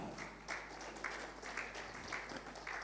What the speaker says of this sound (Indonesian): Tepuk tangannya aja ogah-ogahan, saudara.